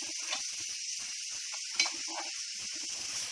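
Cowpea leaf bhaji stirred in a frying pan, a steady soft sizzle with intermittent scraping strokes of the spoon and one sharper clink partway through, close and fairly quiet, no talk.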